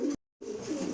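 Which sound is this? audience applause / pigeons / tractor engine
pigeons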